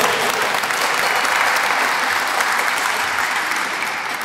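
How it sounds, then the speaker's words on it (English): Dense, sustained applause from a crowd at a Hispanic Heritage Month closing ceremony, loud and close, holding steady for several seconds before easing slightly at the end. "Let's give her a round of applause, please."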